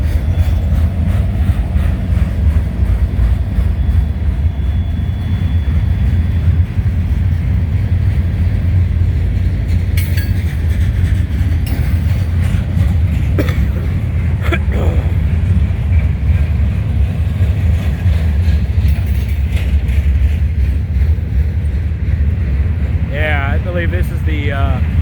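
Loaded freight train of gondola cars rolling past at Canal Ridge Road, a heavy continuous low rumble and rattle that stays loud throughout, with wheel squeal near the end and someone talking over it.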